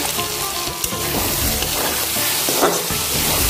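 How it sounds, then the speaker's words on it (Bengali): Spices and pre-fried potatoes sizzle in oil in a pan, stirred for a potato fish curry; a steady close frying hiss runs throughout with soft scraping stirs and no talk. "আমি এর মধ্যে আলুগুলো দিয়ে দেবো, ভেজে রাখা আলু, এবার আর একটু ভালো করে কষিয়ে নেব।"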